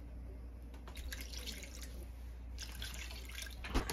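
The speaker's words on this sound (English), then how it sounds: "I'm going to go ahead and add some more water to this." Water trickles and splashes as it is poured into a flour gravy with onions in a pan, a faint, uneven dribbling with a soft clunk near the end.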